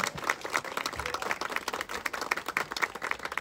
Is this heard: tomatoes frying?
no